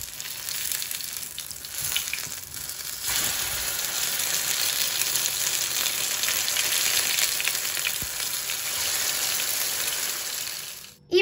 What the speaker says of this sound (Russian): Обжариваем котлеты до румяной корочки.